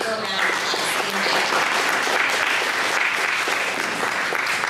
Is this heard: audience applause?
yes